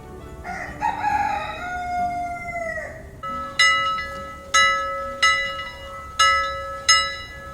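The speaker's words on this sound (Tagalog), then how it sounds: "Malakas na tunog ng kampana" A rooster crows at length, then a loud bell rings out in five evenly spaced strikes, each bright clang ringing on and fading before the next.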